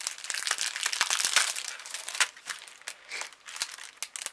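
A plastic package of clear rubber-free stamps bought on eBay is opened, producing a busy run of crinkling and crackling plastic with sharp little snaps, close and continuous, without talking.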